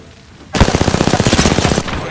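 Enemy gunfire in the Apex Legends video game: a loud, sustained burst of rapid automatic shots with an even rhythm, lasting over a second before cutting off.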